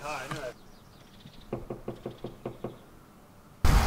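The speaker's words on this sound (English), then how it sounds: "knocking on the stranger's doors again" Someone knocks on a door about ten times in a steady rhythm. Short bursts of talk come just before and just after the knocks.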